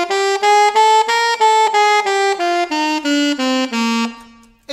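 Saxophone playing a bebop scale in even straight quavers, classical style, ten or so clean separated notes descending in a steady rhythm, loud, close and alone.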